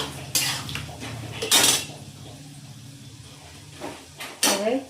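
Roasted chana dal being stirred in hot oil in a pan for a poha chevdo, with several loud metallic scrapes and clanks of a spoon against the pan separated by quieter gaps, only a faint sizzle.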